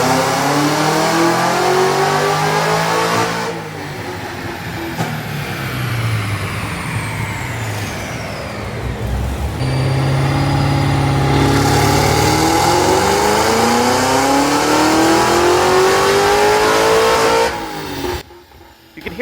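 Hennessey 1000 HP Cadillac CT5-V Blackwing screams on a dyno, engine climbing through repeated rising pulls with gear-change dips, loud and close, before cutting off near the end.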